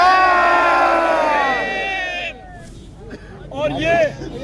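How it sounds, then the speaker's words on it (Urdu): Protesters outside parliament chant slogans against the government: many voices rise together in loud, sustained shouts that fade, then swell again near the end. "اس موقع پر مظاہرین نے حکومت کے خلاف نعرے بازی بھی کی"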